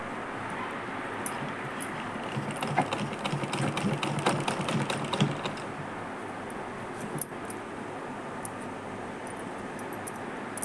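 Sewing machine stitching lace all around the edges of a saree piece, a steady close mechanical whir with a faint rhythmic clatter running unbroken throughout.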